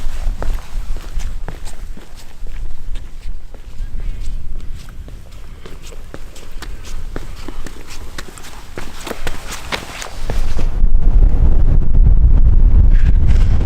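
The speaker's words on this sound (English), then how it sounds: "It's windy for sure today." Strong, gusty wind roars across a high Himalayan trail in Nepal's Everest Three Passes region, buffeting close over steady crunching footsteps and swelling into a louder, deeper rush near the end.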